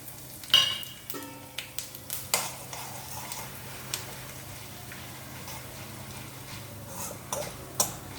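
Mustard seeds, cumin, urad dal and chana dal frying in hot oil give a soft sizzle, with quiet irregular pops and ticks from the seeds and occasional scrapes of stirring.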